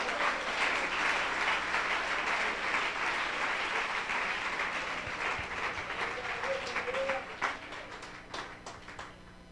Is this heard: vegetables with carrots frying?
no